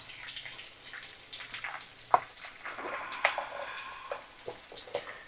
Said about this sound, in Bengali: আমি মশলা কষিয়ে নিচ্ছি